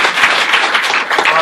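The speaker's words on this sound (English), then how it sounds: "Let's give Sharon a round of applause." Applause for Sharon at a Lions Club gathering, a steady wash of clapping from the audience that holds at an even level throughout the short stretch, with no talk over it.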